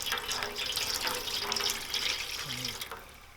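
Water pours steadily into a pot of rustic village chicken rassa curry, a continuous close splashing gush that tapers off near the end, with faint voices murmuring in the background.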